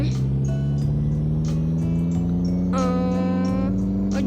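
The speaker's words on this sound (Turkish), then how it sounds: "Neyse sürücüye girin ve gaza basın" A car engine accelerates as the driver presses the gas, a loud, continuous droning hum whose pitch holds and then shifts in steps, with brief higher whines layered over it.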